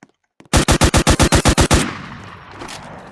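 A rapid burst of about ten evenly spaced gunshots rings out in a Fortnite-style Roblox video game, loud and close, followed by a fading echoing tail.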